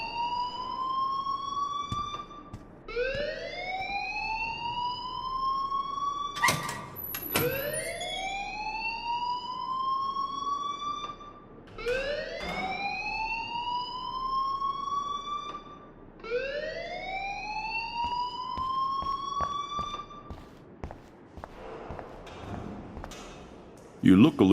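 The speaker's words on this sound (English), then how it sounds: "please turn off that alarm since that's your job" An alarm in the Life is Strange video game wails in repeated rising sweeps, about five loud cycles at a steady pace, while voices talk over it.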